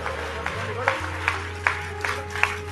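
A church congregation claps in praise of God at a Telugu worship gathering, a steady rhythmic beat of claps about every half second under a preacher's continuous speech.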